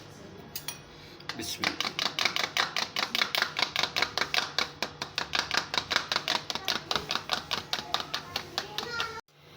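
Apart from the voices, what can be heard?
beating egg with a fork in a bowl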